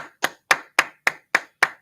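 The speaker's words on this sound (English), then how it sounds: "Clap it up" Seven evenly spaced sharp claps from an audience at an ISUPK history class in Houston, close and loud, each a crisp separate hit in steady rhythm, alone without talk.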